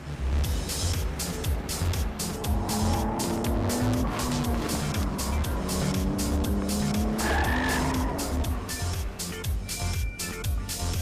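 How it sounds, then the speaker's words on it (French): A Nissan Skyline with an RB26 turbo engine attacks a mountain road, engine roaring loudly and continuously while tires squeal and skid through the corners, with rising and falling revs throughout. "Le RB26 propulse la Skyline de virage en virage."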